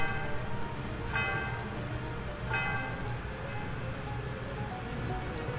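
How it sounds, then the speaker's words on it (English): The Celestial Tower bell rings in the video game Pokemon Volt White, two clear chiming strikes over a dense, steady musical backdrop, fairly faint and with no talk. "The sound of the bell reverberates through the area."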